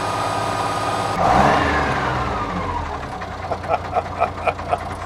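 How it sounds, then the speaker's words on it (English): A supercharged engine runs with a mechanical knock and air compressor whine, a rising whine and swell followed by a run of evenly spaced sharp knocks, with speech faint underneath. "The motors knock, I guess a whole lot of it's actually the air compressor noise"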